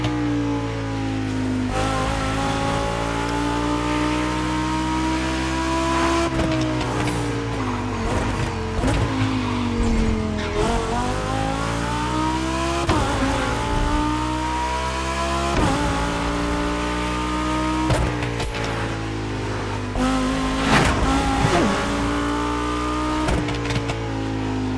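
A concept car engine revving and shifting through gears at speed in the video game The Crew Motorfest, pitch climbing and dropping repeatedly, with occasional tire squeal, loud and continuous.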